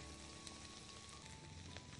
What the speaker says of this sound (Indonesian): nah sekarang saya akan mulai menggoreng beras. Masukkan jahe cacahnya